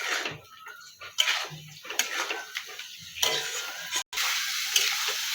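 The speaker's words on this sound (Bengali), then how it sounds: "পরিমাণ মতো নুন দেব দিয়ে এটা কষতে থাকবে" Paneer and cauliflower sautéing with salt in a pan, a soft steady sizzle broken by repeated scraping and stirring clatters from a spatula, close and fairly quiet, with no talk.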